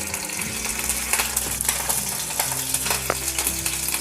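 Paneer cubes frying golden in oil in a pan, a loud continuous sizzle with a low steady hum and occasional light clinks as the cubes are moved around.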